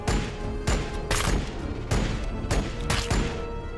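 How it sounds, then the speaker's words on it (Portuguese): Gunfire in the Warhammer 40k Battlesector video game, a rapid series of loud, booming shots and blasts in repeated bursts that fill the whole stretch, with no talk over them. "Muitos tiros!"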